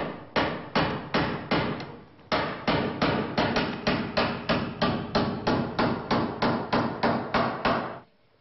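Hammering on a traditional Mallorcan wooden ladder under construction, about twenty loud, sharp, evenly spaced blows struck close by in a steady rhythm with one brief pause.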